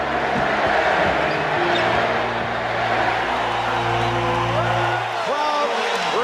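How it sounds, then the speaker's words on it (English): A packed basketball arena crowd in Portland roars in a sustained standing ovation for Larry Bird, a dense, loud wall of cheering and whooping with a steady low crowd hum throughout. "Crowd reacts to the entrance of Larry Bird, a standing ovation"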